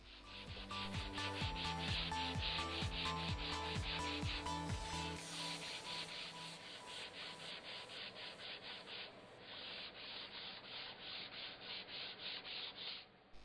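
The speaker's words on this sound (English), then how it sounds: "Always a bit of hand sanding to be done." Wood is hand sanded with Velcro sand blocks backed by spongy rubber, a rhythmic rasping of repeated back-and-forth strokes, heavy and regular at first, then lighter and softer scrubbing, close and without talking.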